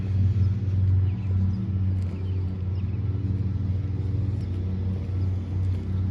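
A white car rolls along a street with a steady, close, low engine rumble that holds evenly throughout, with no voices.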